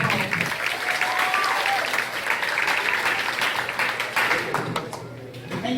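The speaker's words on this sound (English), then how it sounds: "but please give her a round of applause." An audience at a high school athletic banquet applauds steadily for an award winner, a dense, sustained crowd clapping heard from within the room, slowly tapering toward the end.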